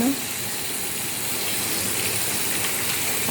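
A faucet runs in a steady, close gush while someone washes their hands, an even rush of water that holds at the same level throughout.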